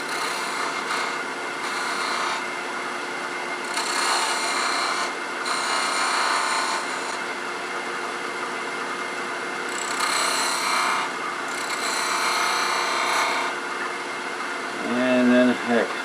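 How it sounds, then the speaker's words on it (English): A spindle gouge rounds over a wooden wading stick handle spinning on a woodturning lathe, giving a steady raspy scraping hiss that swells in several bursts, with the motor's hum beneath and a voice talking. "I'll just kind of clean that up just a little bit with a spindle gouge"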